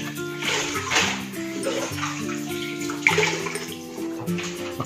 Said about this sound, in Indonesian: kita cuci dulu ya substratnya biar tidak ada kotoran atau hama atau makhluk hidup lainnya ya.